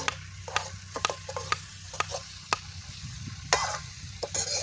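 Prawn rice ingredients fry in a pan outdoors under a tree, a soft continuous sizzle broken by sharp, irregular scrapes and clacks of a ladle stirring against the metal.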